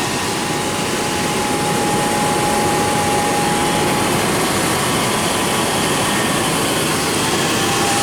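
A car engine idles close by during a diagnostic scan, giving a loud, steady, unbroken drone whose tone shifts slightly as the idle speed is changed.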